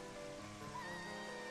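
Rain falls in a Link video game as a faint, steady wash of broadband hiss, layered with soft tonal game sounds and no talking.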